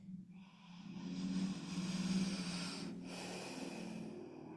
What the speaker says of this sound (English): Another big breath in.